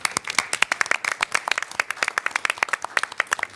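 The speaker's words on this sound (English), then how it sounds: "we'll just give a round of applause of welcome" A council meeting audience claps in welcome for a newly appointed councillor, a steady patter of many hands at moderate volume for several seconds with no talking over it.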